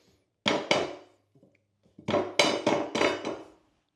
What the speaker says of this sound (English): lightly hammer it in, and that's gonna close that gap over there